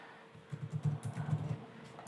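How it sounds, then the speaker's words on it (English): Quick run of computer keyboard keystrokes, about a dozen soft close clicks clustered in one second amid quiet room tone. "So let's type in another name,"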